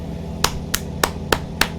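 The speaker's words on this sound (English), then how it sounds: "Take my hand off the wheel long enough to give y'all a clap." Five sharp hand claps in a steady, even rhythm, heard over a low continuous truck engine rumble in American Truck Simulator.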